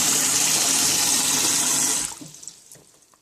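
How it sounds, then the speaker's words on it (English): Water runs steadily from a kitchen tap as a bowl of dried beans is rinsed, a loud close hiss for two seconds before the tap shuts off and a few drips and small clatters fade out. "turn off the water"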